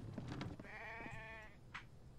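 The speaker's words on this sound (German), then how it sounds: "Es war ein Schaf." A sheep in the survival game Infected gives a single wavering bleat, clear and fairly near, over soft background game ambience with a couple of light knocks around it.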